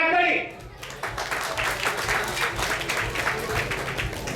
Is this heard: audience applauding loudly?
yes